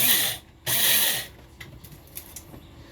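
An electric coffee grinder grinding coffee beans in two short loud whirring bursts close up, the second slightly longer, followed by quieter rattling and clicks as it stops.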